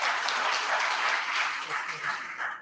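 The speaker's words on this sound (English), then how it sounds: "Have a big clap for sir." An audience applauds at an official live-streamed event at DIET Angul, with steady, dense clapping lasting the whole stretch at a fairly even level and no clear voice over it.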